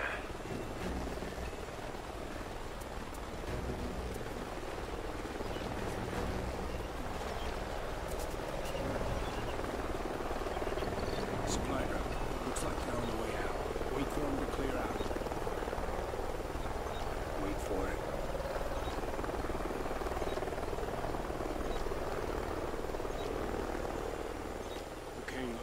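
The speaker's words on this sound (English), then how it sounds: "Sounds like a chopper's up ahead of us." Helicopter in Call of Duty Ghosts flying up ahead over a canyon, a steady broadband rotor and engine rumble filling the scene throughout, with game voices and speech mixed over it.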